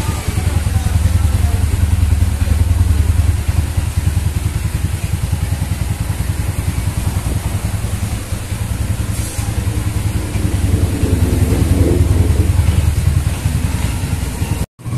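A Suzuki Raider FI 150 motorcycle fitted with a two-way alarm and running lights idles steadily close by, a continuous low engine throb with a faint ticking pulse and slight swells in level.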